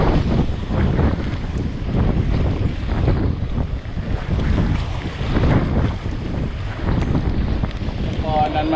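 Strong wind buffets the microphone beside the fast-flowing Mekong River, a continuous loud roar of gusts and rushing water without pause, with faint talk underneath.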